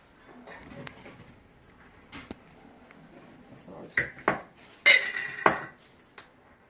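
A spoon clinks and scrapes around a bowl while ingredients are mixed with curd for butter naan dough, soft stirring building to several sharp metallic taps near the end, close and otherwise quiet.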